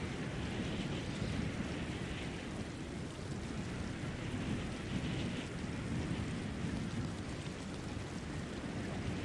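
Storm rain and thunder in the video game Fortnite, a dense, steady roar of rainfall with a low rumbling undertone, moderately faint and continuous with no talk.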